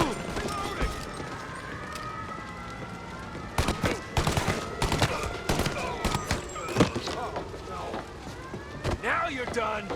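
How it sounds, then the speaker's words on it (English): Gunfire rings out in the video game Mafia Definitive Edition at the Corleone Hotel, bursts of sharp shots scattered over a busy background of clattering steps and game noise, with scattered voices underneath. "Gunfire and an explosion reported at the Corleone Hotel."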